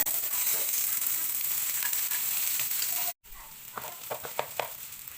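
Rice sizzles as it is stir-fried in a pan with diced carrots, peas and corn kernels, with a steady close frying hiss, a brief gap, then scraping stirs and sharper sizzling bursts.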